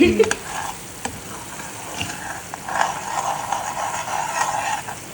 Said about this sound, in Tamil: வதக்கணும்.